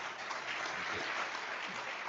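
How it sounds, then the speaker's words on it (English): An audience at an investing conference gives a round of applause, heard as steady, dense clapping from a distance at a faint, even level. "Round of applause for William's book."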